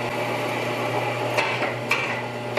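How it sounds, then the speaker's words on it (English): A drill bores a small hole in a forged steel knife piece, giving a steady mid-level whirring hum with a couple of brief, sharp ticks. "I wanna drill a little hole here and see if it worked"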